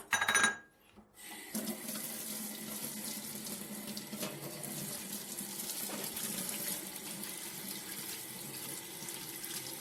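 Tap water runs steadily into a metal strainer of watermelon seeds as they are rinsed, a continuous close splashing flow that starts after a brief quiet moment and keeps going at an even level.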